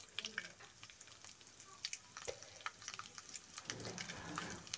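Bay leaves, cumin seeds, fennel seeds and garlic fry in hot oil in a pan, giving a soft continuous sizzle with crackles and light stirring scrapes throughout.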